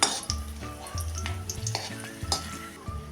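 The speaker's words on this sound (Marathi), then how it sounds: "आता ह्यामध्ये टाकूया ही चिंच आणि ह्या लाल 2 सुक्या मिरच्या, ह्या पण आपण चांगल्या तळून त्यामध्येच काढून घेऊया" Tamarind and two dried red chillies frying in hot oil in a pan for bitter gourd chutney, a continuous close sizzle broken by regular scraping and clinking of a spoon stirring the pan.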